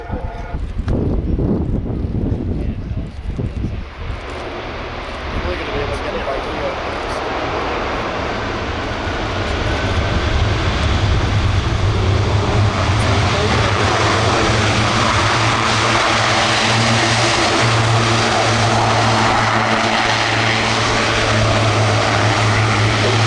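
At the RIAT airshow, a propeller aircraft lands and uses reverse thrust, heard as a loud, sustained engine roar that swells and holds steady with deep propeller drone. Scattered voices from the crowd come through in the opening seconds.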